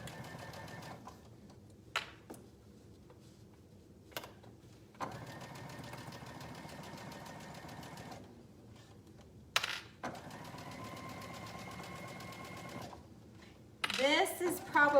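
Sewing machine stitching through fabric and a zipper, running in several steady bursts separated by short pauses with small clicks and handling noises, fairly close and moderate in level.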